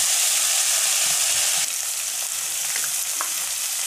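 Chopped tomatoes fry in a hot pan for paneer bhurji, giving a loud, continuous close-up sizzle with occasional stirring scrapes and no voices.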